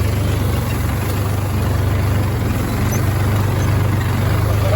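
A tractor with a rotavator attached idles in a field, its engine holding a steady, loud low rumble without breaks throughout.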